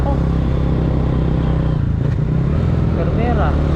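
Motorcycle engine running steadily while riding on a rough diversion road, a weakening bike droning close and continuous with some clatter and a brief dip near the middle.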